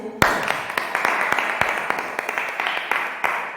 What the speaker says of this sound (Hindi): हम वचन में जाने से पहले अपनी परमेश्वर यहोवा का धन्यवाद करेंगे जोरदार तालियों से